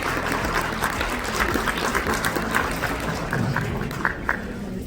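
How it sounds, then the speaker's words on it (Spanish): Audience applause for a doctor about to speak at a conference on communality in rural education. Dense, steady clapping from a large crowd holds throughout, with a few sharper claps standing out near the end. "Pues brindémosles un fuerte aplauso al doctor"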